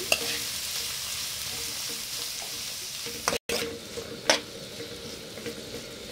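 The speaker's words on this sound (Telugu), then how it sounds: "ఈ మీడియంలో పెట్టుకొని కొంచెం వేగనివ్వాలి ఇవన్నీ" Chapathi noodle ingredients with garlic slices fry and get stirred in a pan over medium heat, a steady close sizzle broken by scraping spatula strokes, with no talking.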